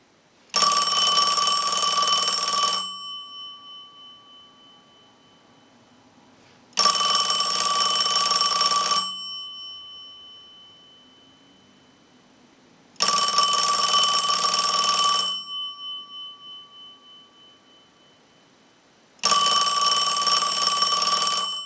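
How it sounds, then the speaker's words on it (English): A Western Electric Princess rotary dial telephone bell rings loudly in four long bursts, each lasting a couple of seconds and separated by regular silent pauses. "send a ring cycle like you were getting a call"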